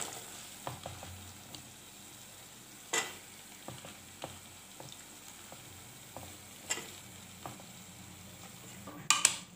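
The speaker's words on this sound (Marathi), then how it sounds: "आता दोडका त्याच्यामध्ये सोडते मी।" Ridge gourd sizzles softly while frying in a spiced masala, with faint, scattered scrapes and clinks of a spoon stirring against the pan. A louder clatter comes near the end.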